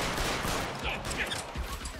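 Rapid gunfire from the L.A. Noire video game, a dense fusillade of shots fired at a hitman who will not go down, loud and continuous with players talking over the shooting.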